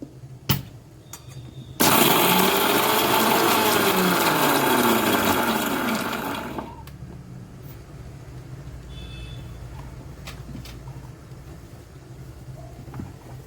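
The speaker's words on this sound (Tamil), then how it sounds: "முதல்ல தேங்காவை மட்டும் அரைச்சிக்கிறேன் கொஞ்சம்." A mixer grinder roars loudly for about five seconds after a brief click, grinding coconut without water, then stops, leaving a quiet room hum.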